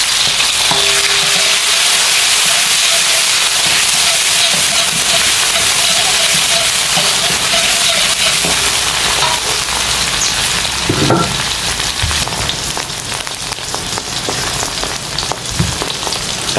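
Tomato, red chili and green onion sizzle and crackle steadily in a hot pan of oil for a sambal, with a few stirring scrapes near the end.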